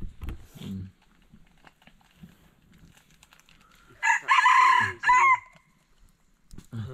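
A rooster crows once in an outdoor forest setting, a loud, strained cock-a-doodle-doo rising in the middle of the clip, with faint clucks and low ambient noise before and after.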